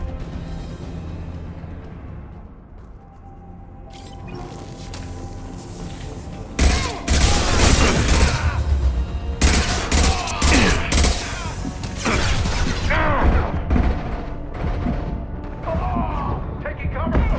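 High-impact gunshots from Mass Effect 2 fire as a series of loud, heavy blasts and bursts of combat noise over the second half, with music and scattered voices in the mix.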